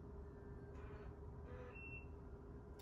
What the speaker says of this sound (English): The motor jogged in one beep